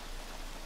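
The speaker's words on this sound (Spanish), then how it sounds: "es que está lloviendo" Rain falling in the jungle survival video game Green Hell, a brief, even hiss of steady downpour with no voices.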